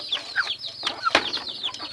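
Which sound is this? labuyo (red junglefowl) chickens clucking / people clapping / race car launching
labuyo (red junglefowl) chickens clucking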